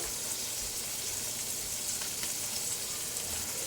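Pulao ingredients sizzle as they roast in ghee over medium heat, giving a steady, dense hiss with no breaks. No one speaks over it.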